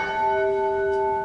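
A church bell rings with a steady, resonant toll, its sustained metallic hum filling the space alone without any voices.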